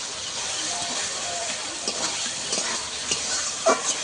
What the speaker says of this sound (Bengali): ভালো করে আমি কষাতে থাকবো।